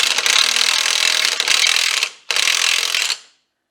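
A ratchet wrench snugs the front axle nut on a 1993 Chevy pickup hub, giving two close, loud bursts of rapid clicking, a longer run followed by a brief pause and a shorter one.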